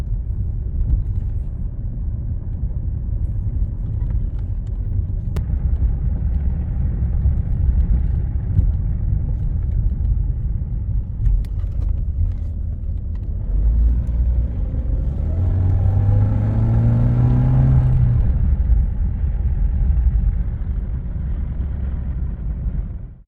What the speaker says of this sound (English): let's go for a quick test drive so that the suspension can sit properly where it should